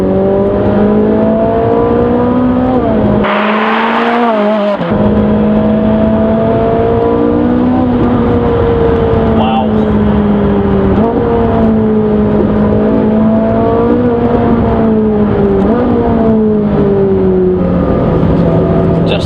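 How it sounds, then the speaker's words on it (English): A Ferrari 458 Italia engine revs loudly and continuously from close by on damp roads, its tone climbing and falling through the gears, with a brief gap around a shift. "I'm going to be quite smooth on the throttle, and I'm going to put the foot down"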